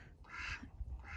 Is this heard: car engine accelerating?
no